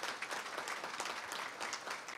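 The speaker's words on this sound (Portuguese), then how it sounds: "a quem eu peço uma calorosa salva de palmas" An audience at the opening of a Brazilian tax law congress applauds in a continuous, fairly faint patter of many hands clapping, with no speech.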